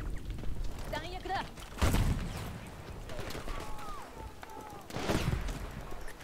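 Scattered gunfire from many players in Battlefield V, with a few louder bursts and sharp cracks rising through a busy battlefield din while someone talks over it.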